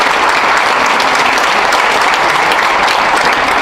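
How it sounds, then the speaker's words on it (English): Loud, dense audience applause fills a State of the City address in DeSoto, a steady wall of clapping from a large crowd that holds at full strength throughout with no talk over it. "that deserves a round of applause"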